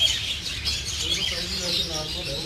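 King budgerigars in a breeding aviary chirp steadily in a busy high twittering chorus, close by and continuous, with a person talking over the birds throughout.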